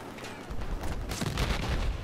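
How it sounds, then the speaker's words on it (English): In the PC shooter Battlefield 4, a deep explosion booms under a continuous rattle of battlefield gunfire. The sound is loud and dense, building toward the end. "That was an explosion."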